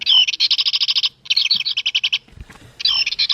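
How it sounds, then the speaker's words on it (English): A Wild Republic plush bird toy plays a recorded house finch call, a loud close run of rapid repeated chirps and warbling notes in several bursts, with a brief soft rustle partway through. "House finch."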